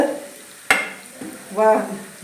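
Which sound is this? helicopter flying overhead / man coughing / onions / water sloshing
onions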